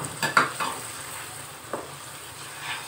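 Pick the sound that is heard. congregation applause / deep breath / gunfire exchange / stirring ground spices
stirring ground spices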